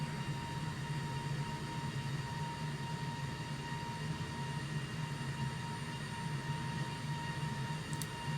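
An airliner accelerating down the runway and climbing away after rotation on a flight from Libreville, Gabon, to Sao Tome. A loud, steady engine roar with droning tones fills the cabin throughout, and no one talks.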